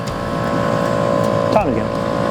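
A 12 volt Adventure Kings air compressor runs steadily with a constant mechanical drone and tonal hum, continuing throughout with a brief shift near the end.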